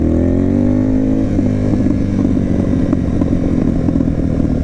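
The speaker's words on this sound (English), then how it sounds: "this bike pops like nobody's business" A Honda VTR 1000 motorcycle's engine rises in pitch and then holds a loud, steady throaty drone up close, with crackling exhaust pops scattered through it.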